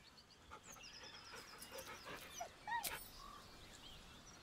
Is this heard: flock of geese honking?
no